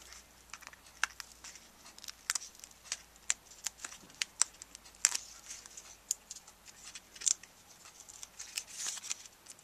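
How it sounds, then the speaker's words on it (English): Backing peeled off sticky foam tape on a handmade Halloween card, a quiet series of crisp crackling ticks and small tearing snaps spread irregularly over several seconds, close up. "I'm going to go ahead and peel off the backing."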